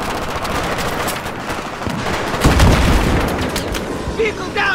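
Sustained automatic gunfire and heavy booms from an ambush in a military shooter game, with Marines taking fire from the left and a vehicle downed near trees and rocks; dense, loud and continuous, with bursts swelling midway.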